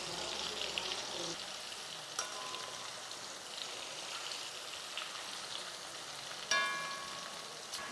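Food frying in a pan, with a soft continuous crackle and sizzle at moderate distance and a sharper burst of spitting near the end, with no clear talking.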